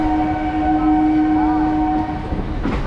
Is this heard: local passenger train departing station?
yes